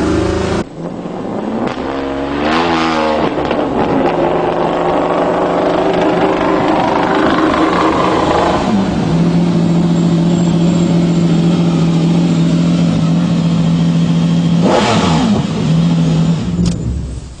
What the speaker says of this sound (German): da sehen wir jetzt das Herzstück des BMW X5 Le Mans. Der Zwölfzylinder, abgeleitet aus der Serie